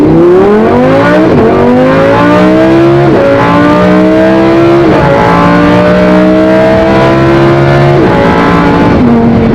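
A naturally aspirated sports car engine revs and accelerates hard through several gear changes, its loud rising howl climbing then dropping at each shift, close and continuous with no talk.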